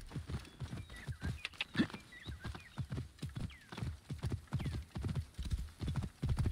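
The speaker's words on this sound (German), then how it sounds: "Episches Pferd." A horse gallops in the video game Assassin's Creed Origins, with rapid, rhythmic hoofbeats clopping steadily throughout at moderate volume, plus a few faint higher game sounds in the background.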